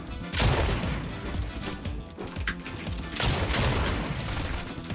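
Rapid bursts of submachine gun fire in Fortnite, loud and dense, rattling in two sustained volleys with a brief lull between them.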